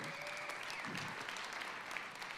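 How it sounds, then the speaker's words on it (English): Warm applause from a youth church congregation for a pastor, steady and moderately close, with brief voices and a whistle-like tone faintly audible over the clapping. "Pastor Jason McKay, you can clap for him."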